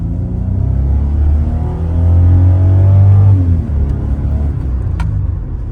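A Kia Sorento with a large-displacement diesel engine accelerates from low revs, with a steady loud rumble that swells in pitch and volume, then eases off before a brief faint tick near the end.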